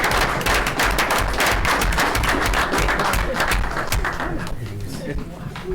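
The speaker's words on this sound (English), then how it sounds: "if the brothers want to applaud for Bill and Dana" An audience at a Hingham CPC meeting breaks into dense, crackling applause that holds steady, then thins toward the end, with voices talking over it.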